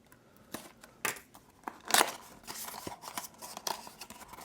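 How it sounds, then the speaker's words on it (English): Toy packaging for Star Wars Micro Galaxy Ships sliced open with a small blade, giving scattered short snips and crinkles with one sharp burst of rustling plastic near the middle. "I am going to cut this open though with this little piece of tape."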